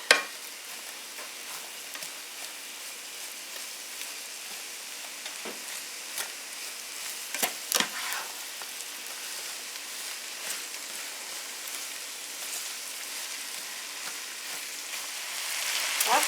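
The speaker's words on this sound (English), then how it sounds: "Okay, you can hear it sizzling," Sausage and peppers fry in a hot pan, giving a steady, close crackling sizzle with scattered sharper pops and stirring scrapes throughout.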